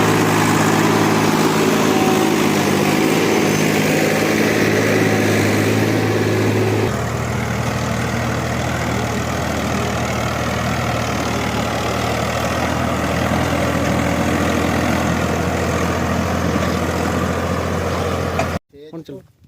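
Agriking 20-55 4x4 tractor engine running loud and steady during a farm demo, the low droning rumble dropping slightly in pitch partway through before cutting off near the end.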